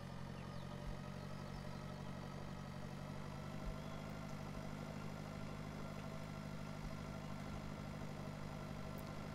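A tractor engine idles steadily in the farming simulator Pure Farming 2018, a constant low rumble with a mid-range hum that holds at an even level for the whole stretch, with no talk over it.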